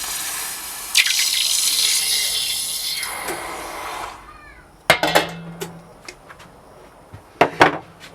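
Hot .999 fine silver bullion plunged into water gives a loud, sustained hiss and seething roar for several seconds, fading out, followed by a few sharp clinks and knocks of handling.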